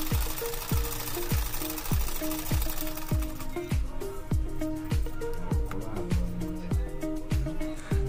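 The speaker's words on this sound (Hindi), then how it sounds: "तब इस तरह हम इसमें चाप सिलाई लगा लेंगे।" A sewing machine runs steadily, stitching a blouse with a regular, rapid mechanical thumping at close range, with no talking over it.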